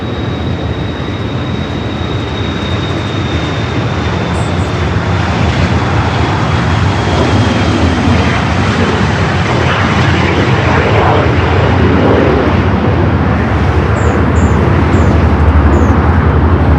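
Corporate jets take off on runway 24 left at LAX, one after another, with a broad, sustained jet roar that swells gradually and holds loud and steady throughout, heard from a nearby bridge with no talking.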